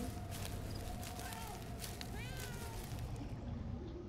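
A cat meows in the video game Murdered: Soul Suspect, several short rising mews heard faintly over steady background noise while a person talks.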